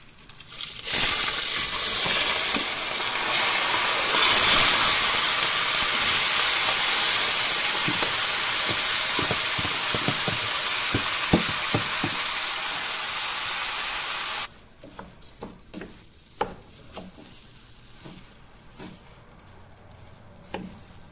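Rice goes into a pan of frying vermicelli, setting off a loud, steady sizzle and hiss that runs for about fourteen seconds, then drops away to scattered light clinks and faint kitchen noises.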